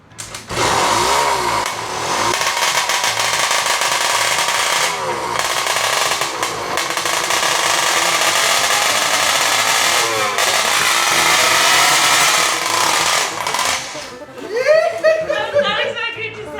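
A two-stroke electric hybrid engine fires up and runs loud and raspy at a high, uneven rev for about fourteen seconds, then drops off as voices and laughter come through near the end.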